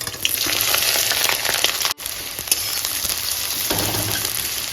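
Dry red chilies, green chilies and onion sputter and sizzle loudly in hot refined oil, a dense, continuous frying hiss with a brief dip partway through as the pan settles.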